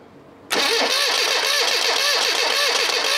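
A classic Rover Mini Cooper engine being restored is cranked over: after a brief quiet moment, a loud, steady starter churn with rapid rhythmic pulses runs on without catching.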